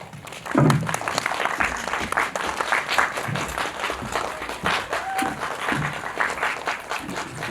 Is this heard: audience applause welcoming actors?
yes